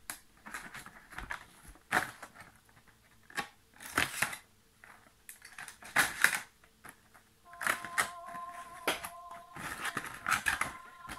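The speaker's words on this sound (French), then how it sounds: "soyez muni d'un couteau pour ouvrir les scotch" Close, sharp bursts of scraping and slicing as a knife cuts through packing tape on a collectible figurine box, repeated several times with quiet rustling pauses between.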